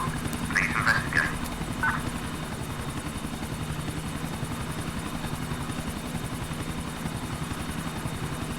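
A police helicopter flies in GTA IV with a steady low rotor thrum and engine drone throughout, while a few brief chirpy beeping calls sound early on.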